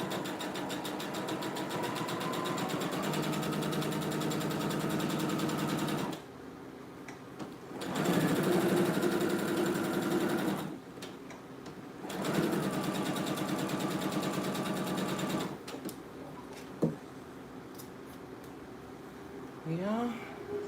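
A sewing machine runs gather thread along a cut-down sleeve for a shirt-to-blouse refashion, whirring in several steady bursts of a few seconds each, with short pauses between runs and brief handling noises near the end.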